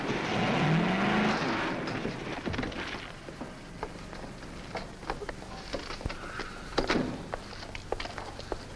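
A car engine roars loudly, then fades as the vehicle moves off, leaving scattered clatter, knocks and rattling noises behind it.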